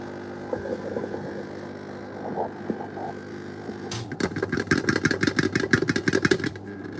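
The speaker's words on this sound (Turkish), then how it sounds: "Çörek otu yağını taze taze sıkıyoruz. Bir çalıştıralım." A black seed oil press machine starts up after a stretch of low background hum. It then runs with a loud, steady mechanical chugging and rapid rhythmic clatter that fills the final few seconds.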